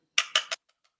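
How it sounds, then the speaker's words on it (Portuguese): Three quick taps of a chocolate mould knocked against a work surface to shake out the excess chocolate, sharp, close and evenly spaced, followed by a few faint ticks. "batendo no meu molde para sair o chocolate em excesso"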